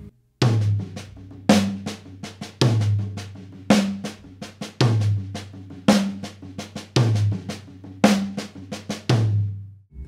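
Accented double paradiddle groove on a drum kit, split between tom and snare, with repeating strikes in a steady pattern and a recurring accent every second or so, loud and close with no talking.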